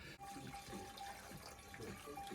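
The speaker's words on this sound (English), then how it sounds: "So we're putting the Glen Keith into the cask." Glen Keith single malt whisky pours steadily into a sherry cask, a continuous splashing trickle of liquid that fills the whole stretch at moderate loudness.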